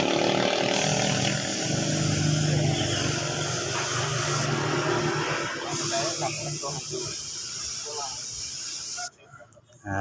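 Spray gun laying thin coats of paint on a motorcycle part, a steady loud hiss in long bursts with short pauses and a sharp cutoff near the end, mixed with a background voice.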